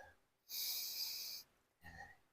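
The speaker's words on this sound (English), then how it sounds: "We'll have a sniff." A person sniffing a glass of VB beer: one long, loud nasal inhale up close, then a shorter second sniff after a brief pause.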